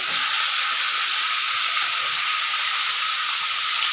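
Onion dropped into hot oil in a pan after frying katla fish, giving a loud, steady broadband sizzle and hiss that runs unbroken and close throughout, with no talking.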